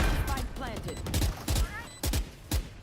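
Rapid bursts of gunfire in the video game Valorant, several quick punchy shots in uneven clusters under an excited voice talking over them.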